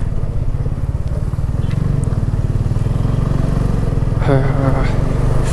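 A TVS Apache RTR 200 motorcycle engine runs steadily, a loud, close, even throbbing idle that continues without a break, rising slightly in intensity near the end.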